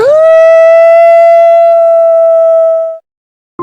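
A jackal howl at night rises into one long, loud, steady wail that holds for about three seconds before cutting off, then a second howl begins.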